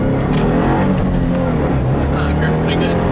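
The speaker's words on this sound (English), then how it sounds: "I'm going to start from first gear this time, so it might be some wheel spin" A 2015 Subaru WRX with a Stage 1 tune roars close up as it accelerates hard from first gear, with a dense rising drone. A voice speaks over it.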